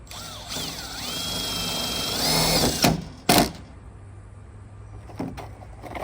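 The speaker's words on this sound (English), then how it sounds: "I'm just going to shoot this with a self-tapper" A power drill drives a self-tapping screw into the hood of an XJ Jeep Cherokee, a close whirring whine that rises in pitch and strains, followed by a couple of sharp metallic clunks and quieter handling noises.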